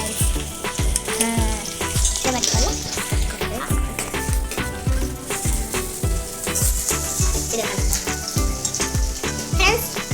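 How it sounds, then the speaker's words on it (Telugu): A Manchurian mixture is stirred in a frying pan. The sizzle is loud and close, with a rapid, rhythmic knock of a spoon against the pan repeating many times throughout, alongside scraping and frying crackle. "వెన్నెల అయితే కలుపుతుంది, కలుపుతూనే ఉండాలి"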